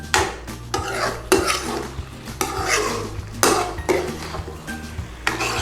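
Chicken dopiaza curry stirred in a pan, a spoon scraping and clattering against the metal in several quick separate strokes under a steady low sizzle, close and fairly loud with no talk.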